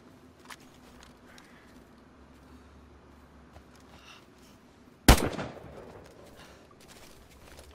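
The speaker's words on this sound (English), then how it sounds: "I missed the shot" A single loud gunshot in the video game DayZ cracks out after a stretch of quiet ambient game sound and faint shuffling, its echo trailing off over the next couple of seconds.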